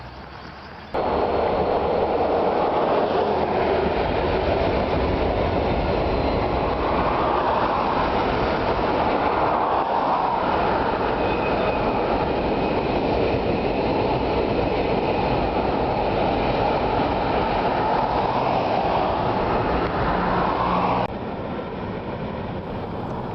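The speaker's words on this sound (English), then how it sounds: "Our first look at 6936 comes as the train glides across Jasper-Lowell Road" Union Pacific 6936, a DDA40X Centennial diesel locomotive, rumbles past steadily with its train at Fall Creek Junction, Oregon, with a deep engine drone and rolling wheel noise, loud and close throughout before easing off at the end.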